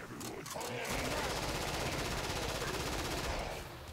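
Sustained full-auto gunfire in the zombie shooter game Killing Floor, a dense, loud burst of rapid shots running nearly the whole four seconds with a fast, continuous rhythm.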